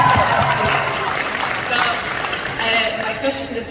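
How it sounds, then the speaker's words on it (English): An audience applauds in a dense, steady wash of clapping that lasts throughout, with crowd noise and some voices mixed in. "Everyone give a round of applause."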